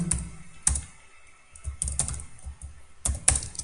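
PHP code is typed on a computer keyboard: irregular clusters of close, crisp key clicks with a few sharper, louder strikes and brief pauses between bursts, no voices.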